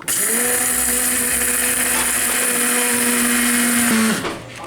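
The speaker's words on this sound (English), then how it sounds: "We got this bean grinder from Walmart, y'all. It's the Hamilton Beach brand." A Hamilton Beach coffee bean grinder whirs in a steady, loud high-pitched motor whine for about four seconds, then spins down as the beans are ground, with no voices.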